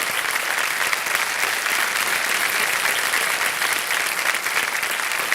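A studio audience on the Kaun Banega Crorepati quiz show applauds steadily, a dense, even wash of clapping that stays loud throughout with no talk over it.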